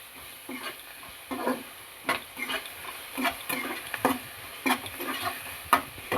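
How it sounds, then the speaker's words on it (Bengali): Grated ginger and garlic with onion get stirred in a frying pan, a spatula scraping and clattering in irregular strokes over a soft, close sizzle. "এবার আদা রসুনটা পেঁয়াজের সঙ্গে খানিকক্ষণ নেড়ে নেব।"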